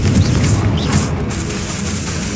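A Confringo blasting spell explodes in the Hogwarts Legacy video game, a loud, booming burst right at the start that settles into a heavy, rumbling tail with no voices over it.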